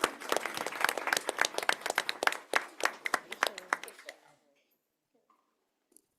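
Audience applause at a school board meeting honoring high school winners, a burst of dense clapping from a room of people that thins into a few last claps and fades to silence after about four seconds.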